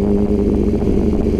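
A 2021 BMW F900 XR motorcycle engine runs with a steady, close, low throbbing drone and even rhythmic pulsing, no voices over it.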